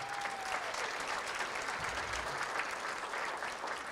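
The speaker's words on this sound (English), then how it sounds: "Give yourselves a big round of applause for being here." Dense, continuous applause from a crowd at a high school athletic hall of fame dinner fills the whole stretch, steady and fairly loud with no voices standing out.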